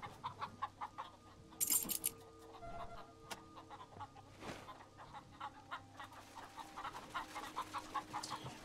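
A chicken in the video game Wasteland 2 clucks in a rapid run of short, repeated clucks, fairly close and clear, over a faint background game tone with a brief louder burst early on.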